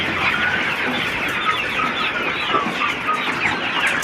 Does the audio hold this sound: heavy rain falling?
no